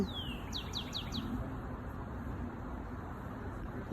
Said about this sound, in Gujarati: તમે બર્ડનું ગાવાનું સિંગિંગ સાંભળી રહ્યા છો. ચર્પિંગ ઓફ ધ બર્ડ્સ.